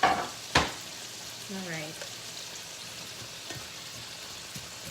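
Taco meat and vegetables fry in a skillet with a soft, steady sizzle, broken by a sharp utensil clatter at the start and occasional stirring knocks, and a brief spoken word near the beginning.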